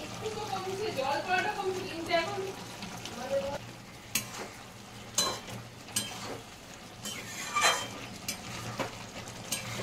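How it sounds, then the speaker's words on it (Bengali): Papad and ghee going into a pot of simmering moong dal with pointed gourd, giving a soft bubbling sizzle with a few sharp stirring knocks against the pot, while someone talks over the first few seconds. "এবার পাঁপড়টা দিয়ে দিচ্ছি। একটু ঘি দিব।"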